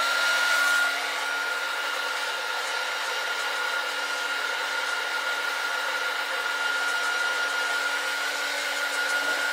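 A heat tool blows air steadily over craft stencil work to dry it, a loud, continuous whooshing roar that holds unchanged for about nine seconds with no talking.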